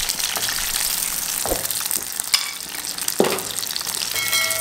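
Onions sizzle steadily in hot oil in a pan for a Telugu sea fish curry, with a few sharp stirring scrapes cutting through the continuous frying hiss, close and fairly loud.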